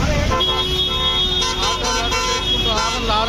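Horns toot repeatedly from auto rickshaws and other vehicles in busy Tamil Nadu street traffic, a steady roar of engines and crowd noise beneath, with voices talking over it.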